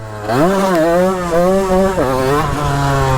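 A motorcycle engine revs hard and steadily up close for a wheelie attempt, its pitch climbing and dipping in waves through several throttle blips.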